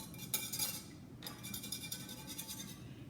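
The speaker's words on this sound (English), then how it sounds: "So Sammy's going to whisk." An egg being whisked in a bowl for ricotta filling, a rapid metallic clinking of the whisk against the bowl in two bursts, close and moderately loud.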